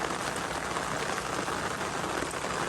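Steady rain falls on a farm, a dense, even hiss of drops striking surfaces close by that continues unbroken and fairly loud throughout.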